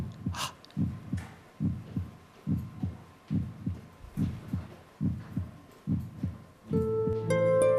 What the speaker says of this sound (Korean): 가슴이 가볍게 빨리 자꾸 뛰는 PD님의 심장 소리입니다